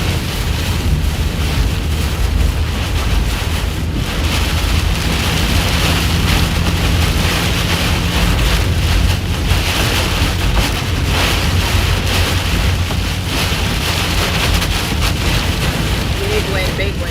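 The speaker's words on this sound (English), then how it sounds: "Big wind. Oh, big wind." Strong wind roars steadily during a supercell storm chase in Iowa, a dense, continuous rushing buffet with no letup, while people speak briefly over it.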